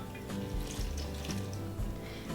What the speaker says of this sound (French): Ajoutez l'eau.